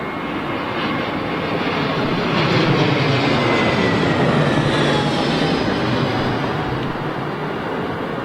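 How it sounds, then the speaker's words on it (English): A Eurowings Airbus A319 lands on runway 27L at London Heathrow Airport, its engines a loud, steady broadband roar that swells slightly mid-pass with a faint whine, heard close and alone. "next plane is Eurowings, one A319"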